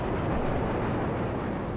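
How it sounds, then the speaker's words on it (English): Train passing in the video game Grand Theft Auto III on PS2, a dense, steady low roar of rolling rail noise filling the whole short stretch at constant loudness. "Train."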